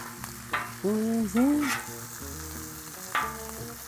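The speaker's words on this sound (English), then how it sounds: "we're gonna flip these hash browns" Hash browns sizzle on a Blackstone griddle with a steady frying hiss, broken by scraping spatula strokes and a couple of clanks and squeals as the potatoes are flipped.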